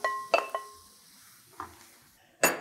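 Wild mushrooms such as cremini, oyster and portobello tumble into a cooking pot, giving a few separate clinks and knocks of metal and utensil spaced across a quiet kitchen.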